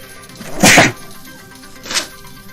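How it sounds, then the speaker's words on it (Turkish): One sharp, close sneeze bursts out, followed about a second later by a smaller, softer sneeze against a quiet background. "Hem hapşırmaya da son verelim."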